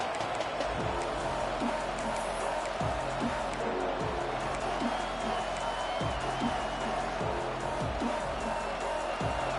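At a Penn State versus Texas Tech football game, the home crowd keeps up a loud, continuous roar on a third down, with rhythmic stomping or chanting beneath it and no talk.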